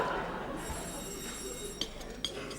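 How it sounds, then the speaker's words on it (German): An old 1960s telephone rings with a thin, high bell tone sustained for about a second in a quiet room, followed by a couple of soft knocks. "Das Telefon, Herr Bürgermeister."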